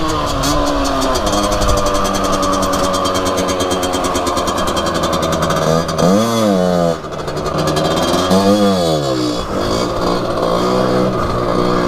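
A motorcycle with a Leo Vince V6 or stock exhaust pipe runs close by, a raspy steady engine note with two rising and falling rev sweeps partway through; speech is faintly present.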